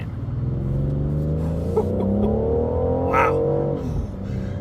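A BMW M760i sedan with a giant engine accelerates hard in sport mode, the engine note climbing steadily in pitch through a strong, close rev before easing off. A single brief exclamation is heard partway through.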